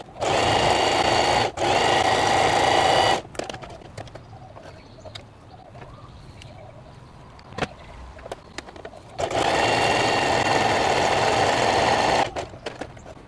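A sewing machine finishes the shoulder seam of an open-back dress in two loud, steady bursts, the first about three seconds with a brief pause and the second after a long quiet gap, light handling noises between.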